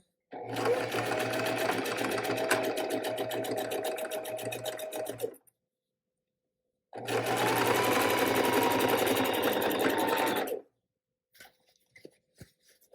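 A sewing machine stitches a quarter-inch drawstring bag seam, backstitching at each end: two loud, steady whirring runs of about five and four seconds, separated by silence, then a few faint clicks.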